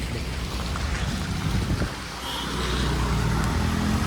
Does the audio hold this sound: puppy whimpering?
no